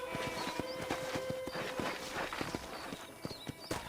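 A horse in the Red Dead Redemption video game clip-clops along at a steady walking rhythm, hooves thudding repeatedly and fairly close over a soft ambient bed with faint bird calls.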